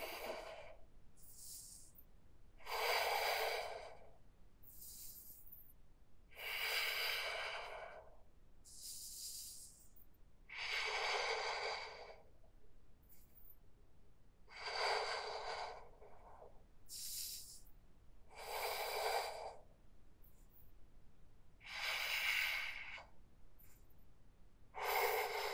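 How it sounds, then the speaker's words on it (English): Deep breathing while holding a yoga forearm stand: slow, close inhales and exhales with long airy hisses, about one breath every four seconds and quiet pauses between them. "Breathe deeply."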